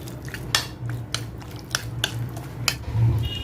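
Marinated chicken pieces are tossed with cornflour in a bowl, making soft squishing, scraping and clinking of a utensil against the dish in uneven, close strokes with no talking.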